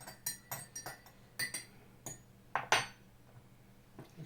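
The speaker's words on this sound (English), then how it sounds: "I'm going to get my spoon and just give the cup a little stir." A spoon stirring dark roast coffee brewed in an Aeropress, a quiet series of light metallic clinks against the cup, with a couple of sharper rings near the middle, heard alone at low level.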